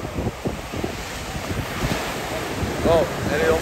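Ocean waves roll onto Tunis beach, a continuous windy rush of surf with broadband wash, steady and fairly loud, with faint voices in the background.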